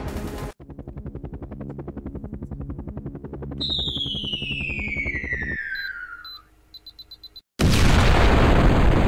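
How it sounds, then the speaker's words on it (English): In a horror video game, rhythmic pulsing effects and falling synthetic tones build up, followed by a sudden silence and then a loud, broad roaring nuke explosion. "And I dropped the nuke on the place."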